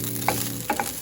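Onion cooking in a pan before egg is added, a continuous close sizzle with a couple of brief stirring clinks, no talking.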